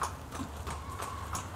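Horse hooves clip-clop in a racing barn, a quick, even run of close, light hoofbeats on a hard floor with no voices.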